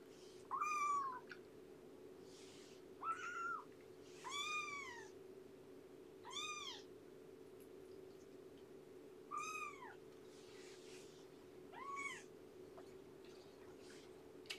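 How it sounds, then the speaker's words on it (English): A cat meows about seven times in short, separated calls against a steady low hum, fairly close and clear, with quiet pauses between each meow. "Wait till she meowed and I stuck food in."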